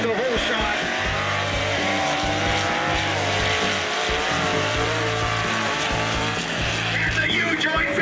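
A long-bed Chevy mud truck races down a mud track with all four tires spinning, its engine roaring loud and steady throughout under an announcer's commentary.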